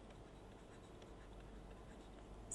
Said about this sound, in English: I'm gonna write it here.